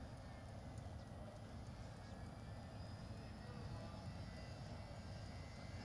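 An H1 Unlimited hydroplane's turbine engine spools up during Gold Cup testing, a steady distant roar and whine that holds without fading.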